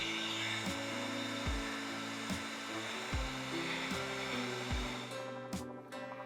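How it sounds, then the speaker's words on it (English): A heat gun set to low heat runs steadily while warming the plastic edge of a TP-Link RE190 Wi-Fi range extender, a constant airy blower hum with a tonal whine under it. "Start by taking our heat gun, putting it to low heat, and heat up the edge of the router."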